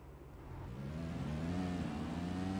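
Car engine in the mobile battle-royale game Knives Out, a mid-pitched motor humming and rising in pitch as it nears, growing steadily louder over a couple of seconds and heard alone without talk.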